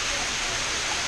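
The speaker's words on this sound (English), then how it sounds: "Waterfall." A waterfall in the El Yunque rainforest: steady, broadband rushing of falling water, loud and close, filling the moment without a break.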